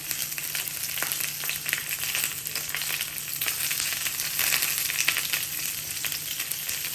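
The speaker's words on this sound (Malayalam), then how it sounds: "ഒണിയനെ ഒന്ന് മറിച്ചിട്ട് കൊടുക്കാം." Onions sizzle and crackle steadily in a hot pan while being turned, a continuous close frying hiss with occasional scraping stirs.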